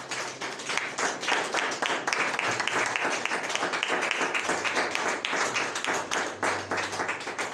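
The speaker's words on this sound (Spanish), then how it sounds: "¿Cuántos le pueden dar un fuerte aplauso al Señor?" A church congregation breaks into loud, sustained applause during a Thursday evening general service, many hands clapping densely and continuously for several seconds with no voice standing out.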